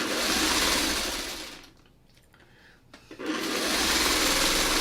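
A sewing machine stitches quilt blocks together in a steady fast whir, stopping briefly in the middle before running again, close and loud.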